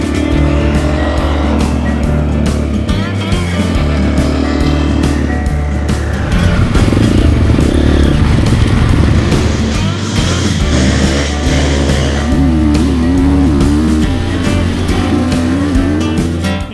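A Triumph TF450-C off-road motorcycle engine roars steadily and loudly, its pitch rising and falling as the bike is ridden hard over West Virginia terrain, with no voices.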